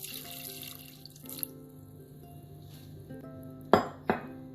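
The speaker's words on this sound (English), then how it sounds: "I am just adding water to cover up the rajma." Water runs from a kitchen tap into a pressure cooker pot over soaked rajma kidney beans, a soft steady stream with faint metallic clinks and two sharper knocks of the pot near the end.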